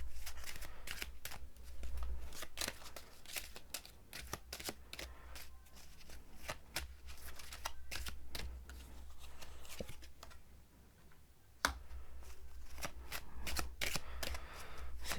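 Tarot cards are shuffled and drawn by hand close up, a long run of rapid riffling flicks and soft card slaps, fairly quiet, with brief pauses between bursts.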